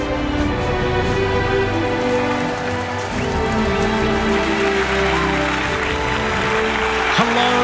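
Applause from an audience at an esports league show, a dense continuous patter of clapping at a steady, fairly loud level throughout.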